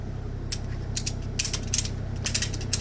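Hand winch ratcheting as it pulls a precut hand-hewn timber frame home together, loud close bursts of sharp metallic clicks in short irregular pulls over a steady low engine-like rumble, with no talk.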